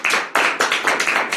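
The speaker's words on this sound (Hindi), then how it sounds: "ताली बजाएं उसके लिए," Audience clapping during a Hindi religious sermon, sharp and close with a rhythmic, uneven pattern of bursts over a little more than a second, no voices.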